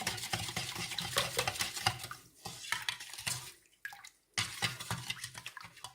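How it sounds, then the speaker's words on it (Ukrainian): A spoon stirs salt into cold water for tomato-pickling brine in a jar, a continuous busy swishing and clinking that pauses briefly twice. "Суль нам треба розмішати, бо вона файно розійшла у воді."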